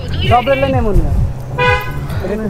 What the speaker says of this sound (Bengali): গাড়ি, প্রাইভেট কার।